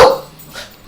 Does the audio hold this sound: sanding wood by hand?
no